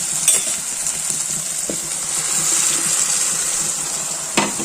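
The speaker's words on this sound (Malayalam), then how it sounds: "നമുക്ക് മിക്സിയും കൂടെ കഴുകി" Tap water rushes steadily while a mixer grinder jar is rinsed out in a home kitchen, a close, continuous splashing flow broken by a couple of brief clinks of the jar.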